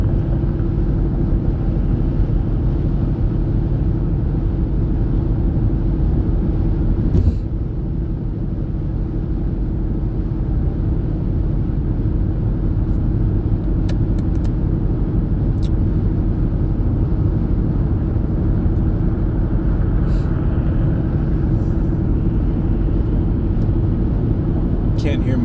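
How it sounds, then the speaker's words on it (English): Tyre and wheel road noise fills a car cabin at about 60 miles an hour on the highway behind a truck, a constant loud low roar throughout. "Can't hear my tunes over the wheel noise."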